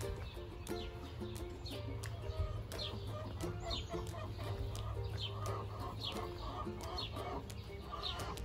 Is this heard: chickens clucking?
yes